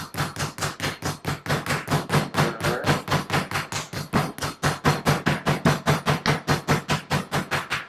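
A hammer pounds chicken breast flat for chicken parmesan, delivering a fast, steady series of loud, close thuds with no pauses, alone without talk.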